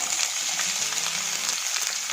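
Finely chopped onion with cardamom frying in a pan for chicken hariyali, a steady close sizzle with light stirring, brief and even, with no voices.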